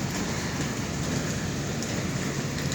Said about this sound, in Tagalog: I love walking in the rain